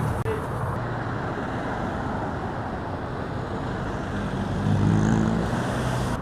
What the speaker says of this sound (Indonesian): sekarang aku lagi di bus stop menunggu bus